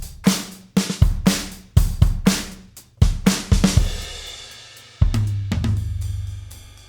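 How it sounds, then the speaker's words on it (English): A Logic Pro X Drummer track winds down in a soft ending, with rhythmic ride cymbal and snare hits, a short fill and a final cymbal wash ringing out alone. "you can hear the ride cymbals here with a bit of a fill knob there, which sounds like this in the end."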